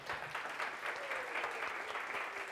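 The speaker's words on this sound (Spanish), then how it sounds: "Dale un fuerte aplauso al Señor" Church congregation applauding during a Sunday service, a steady, fairly close wash of many hands clapping together with a faint sustained tone beneath.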